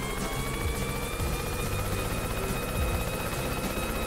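A helicopter flies in the Yooka-Laylee video game, its rotor giving a loud, steady whirring drone with a high whine layered on top, continuous throughout and heard alone.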